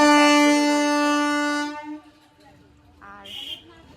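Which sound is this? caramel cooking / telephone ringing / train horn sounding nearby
train horn sounding nearby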